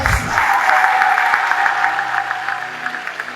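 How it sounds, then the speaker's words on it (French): An audience applauds at a youth conference, a broad sustained clapping that stays fairly loud, with a faint steady tone and a brief voice at the start. "On va applaudir."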